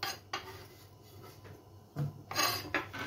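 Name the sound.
saucepan being handled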